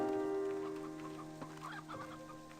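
Chickens cluck in the Slime Rancher 2 video game, a steady run of tonal clucks and squawks over a humming game soundtrack, moderately loud with no one talking.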